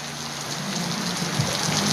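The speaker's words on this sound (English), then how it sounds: "20 minutes later, still pouring" Heavy rain pours steadily through a storm, a dense, even hiss of drops striking surfaces nearby, with no pauses over a couple of seconds.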